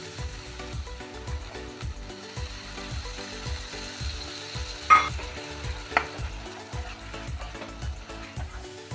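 Brinjal stir-fried with garlic sauce in a pan: a soft, continuous sizzle with steady rhythmic scraping strokes of a spatula repeating about twice a second, plus an occasional sharper clink.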